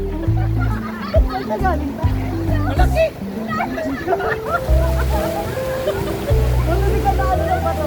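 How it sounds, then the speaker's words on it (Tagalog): Strong waves crash and splash on a beach in a steady, loud wash of surf, with children's and adults' voices talking over it. "ang lakas ng alon dyan"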